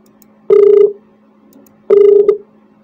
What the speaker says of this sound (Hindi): जरा फोन आ रहा है भाई